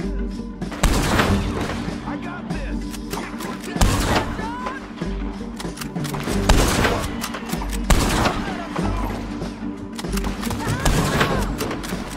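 Dense gunfire in the Western video game Red Dead Redemption 2, with repeated loud bursts of shots and heavy thuds over about twelve seconds, layered with background voices.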